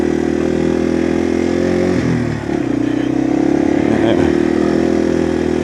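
A Yamaha TW200 dual sport motorcycle ridden slowly in first gear, its single-cylinder engine humming steadily up close with a brief dip and recovery in revs.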